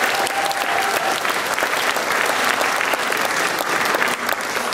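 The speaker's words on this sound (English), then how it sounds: "a round of applause for sponsors" Sustained applause from a live audience at an evening charity event in Houston, dense steady clapping held across the whole stretch with a faint crowd murmur beneath.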